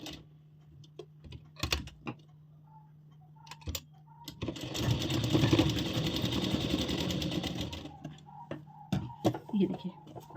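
A sewing machine stitches a ladies' salwar, running in one steady whirring burst of a few seconds, with quiet handling noises and brief sounds before and after.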